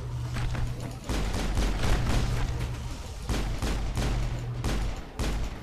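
Rapid gunfire in the video game Mass Effect, dense continuous bursts of shots with short pauses between volleys, loud and close, and no talk over it.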